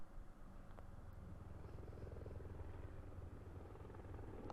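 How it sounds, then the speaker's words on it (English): A continuous low thrumming rotor drone of a helicopter in a Splatoon game trailer, steady and fairly faint throughout with no speech. "Helicopter?"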